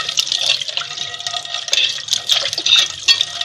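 Tap water runs and splashes while something is rinsed under it, with uneven gurgles and drips close by and no talk.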